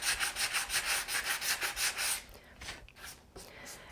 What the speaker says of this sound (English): finesse everything down with your sandpaper